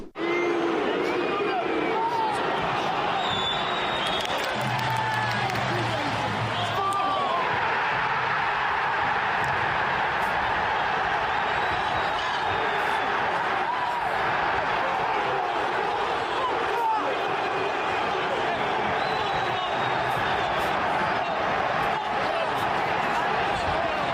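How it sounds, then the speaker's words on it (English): Away-end football supporters at a Leeds match roar and cheer after a goal, a sustained, dense wall of crowd noise with whistles and shouting throughout, loud and continuous across the whole stretch. "It's the greatest sound in football, hearing an away end go up"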